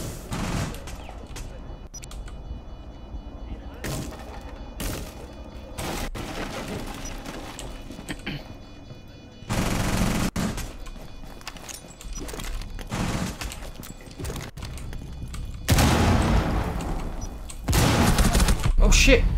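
Gunfire in Rainbow Six Siege on the Grim Sky map comes in scattered bursts and bangs, some loud and close and others muffled, under ongoing game noise with players talking.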